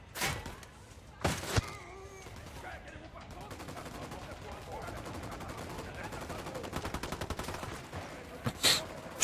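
Gunfire in the cartel-fighting shooter Ghost Recon Wildlands, with a couple of sharp, loud shots at the start, then rapid automatic bursts and sharp impacts at mid distance.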